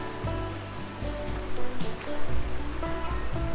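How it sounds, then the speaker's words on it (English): A fast-flowing creek in Tasmania's West Coast rainforest rushes and churns in a steady broadband wash, fairly close with surging bursts, and no talk over it. "Look how fast that creek's flowing."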